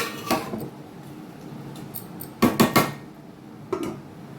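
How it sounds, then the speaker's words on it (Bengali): A cooking pot is covered with a lid while making chicken tehari, giving a few sharp metallic clatters close by: one around the start, a quick cluster of three in the middle, and a last clink near the end, with quiet between. "আমি এই রান্নাটা ঢেকে দেব 10 থেকে 15 মিনিটের জন্য"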